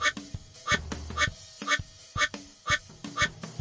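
Cartoon duck quacks from a kids' water park video game sound in a regular series of about eight short, bright quacks over light game beeps.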